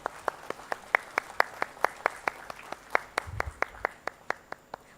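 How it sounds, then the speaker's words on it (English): Sparse, evenly spaced individual claps at an industry conference inauguration ceremony, a slow rhythmic clapping of roughly fifteen distinct sharp claps, fairly close and clear, with no talk. "a big round of applause."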